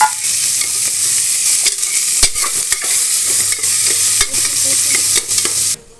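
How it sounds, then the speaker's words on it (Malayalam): Onions sauté with a loud, close sizzle while a utensil stirs and knocks against the pan in irregular scrapes, ending abruptly. "സവാള ഇട്ടിട്ടുണ്ട്. വഴട്ടട്ടെ."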